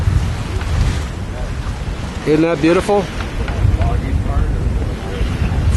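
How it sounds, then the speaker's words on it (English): A squall gust sweeps across a sailboat at sea, a steady roar of wind buffeting the microphone throughout while a person speaks briefly in the middle. "It's just behind a squall that's over there that's giving us a gust of wind."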